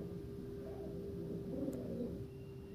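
A pigeon coos in low, throaty rolling phrases, fairly faint over a steady background hum, with no one talking.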